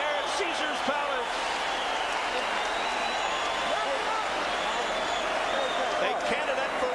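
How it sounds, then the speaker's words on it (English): A standing boxing crowd at Caesar's Palace roars in a sustained, dense wall of cheering and applause at the end of a heavyweight round, loud and continuous throughout. "The crowd is standing here at Caesar's Palace."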